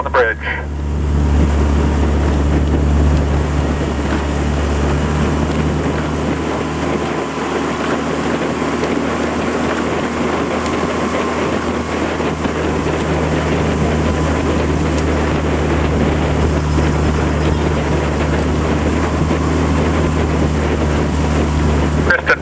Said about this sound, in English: Kristen, heads up on the boat coming down.